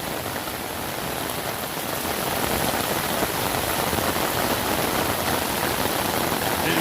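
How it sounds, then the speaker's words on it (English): Torrential rain from a tropical storm drums constantly on a house and front yard, a thick, unbroken roar of falling water that swells slightly louder partway through, with no talking. "It is coming down."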